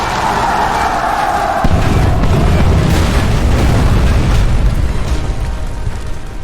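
Bomber explosions during the battle at Hoover Dam in Fallout: New Vegas arrive as loud, deep, rumbling blasts that merge into a sustained roar after an engine-like drone.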